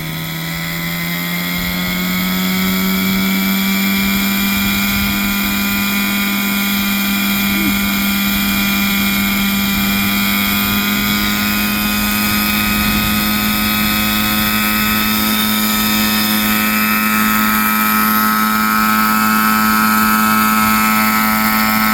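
Nitro-powered RC helicopter of 1980s German design in flight, its small glow engine holding a loud, steady high-pitched drone with a strong buzzing whine and rotor hum throughout, close and continuous with no talk.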